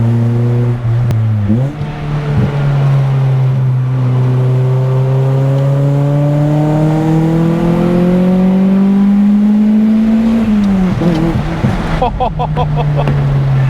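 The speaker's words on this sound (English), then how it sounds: "Wow, it sounds so good in the high revs." A Nissan Pulsar SSS engine revving hard while being driven, a loud droning note that climbs steadily for several seconds, then drops with a shift and continues.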